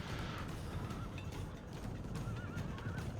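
Horses of Turkish horse archers in the Medieval II Total War video game, heard as a steady bed of battle noise with faint neighs and whinnies rising above continuous rumbling, thudding hooves and clatter.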